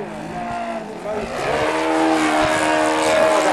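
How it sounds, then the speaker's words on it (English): A radio-controlled 3D aerobatic model airplane with a propeller engine buzzes overhead, its whining drone climbing and swelling louder while performing a torque roll. "Torque roll from Mr. Dwros"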